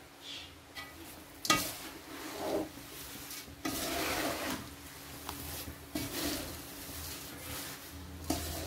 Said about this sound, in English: I will be mixing it.